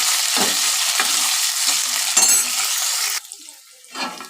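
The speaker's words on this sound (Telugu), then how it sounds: "రెండు కరివేపాకు కొద్దిగా ఫ్రై చేస్తానండి" Curry leaves sizzle and crackle in hot oil in a pan for drumstick sambar, a steady close frying hiss with a few soft stirring knocks, quieter toward the end.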